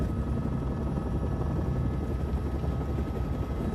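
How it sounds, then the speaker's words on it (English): A helicopter roars continuously up close, its heavy rotor thrum and engine drone filling the sound without a break. "Military helicopter, understandable."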